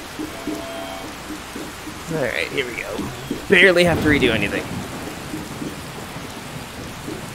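Steady rain with a low rumble of thunder in the video game Skyrim VR, a constant wash under someone talking in the middle of the clip.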